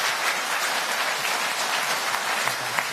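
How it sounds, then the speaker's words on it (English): A debate audience in Wellington gives a dense, sustained round of applause, many hands clapping together at a steady even level with no voices over it. "can we have another round of applause collectively for our four debaters"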